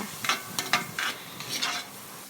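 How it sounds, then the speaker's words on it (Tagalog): Ground meat is stirred into garlic and onion in a pan, a quiet sizzle cut by a quick series of soft spatula scrapes, close up and without speech. "susute na rin po natin yung ating giniling para po hindi masunog yung bawang sibuyas"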